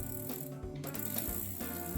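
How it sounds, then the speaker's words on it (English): A screwdriver scrapes greasy dirt off bicycle jockey wheels, giving close, quick mechanical clicking and grinding with a ratchet-like texture over two seconds. "Most of that greasy dirt can be removed from the jockey wheels with a screwdriver."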